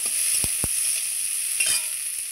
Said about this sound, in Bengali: এর মধ্যেই ভালো করে পেঁয়াজটাও আমি ভেজে নেব